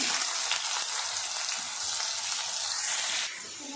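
Steady, loud sizzling of chopped onions frying in hot oil with cumin, a continuous crackle with faint stirring, easing slightly near the end.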